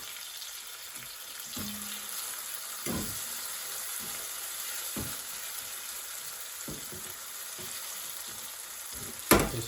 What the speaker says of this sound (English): let that just simmer away for a few minutes